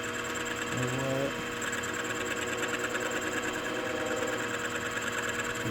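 A boring head on a machine cuts the bore of an air compressor connecting rod, a steady whirring mechanical hum with a fine rhythmic chatter running throughout at constant level.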